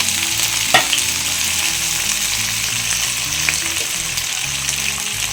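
Val beans (field beans) hit a hot pan with oil, curry leaves and potato, giving a steady close sizzle of frying with a few sharp clatters of stirring throughout.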